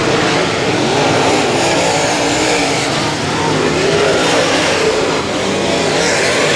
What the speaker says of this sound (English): Drag race down the backstretch into turn 3.